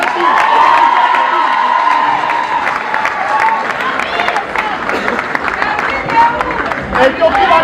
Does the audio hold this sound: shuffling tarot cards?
no